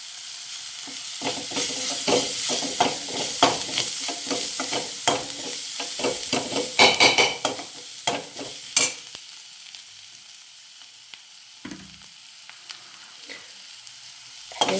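Coriander and spices sizzle in a hot pan for a pea curry while a spoon stirs, producing scraping and steady frying crackle that is close and busy at first, then calms to a softer sizzle.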